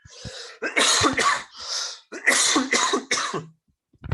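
Several harsh cough-like bursts in two quick clusters, close and fairly loud, separated by short pauses.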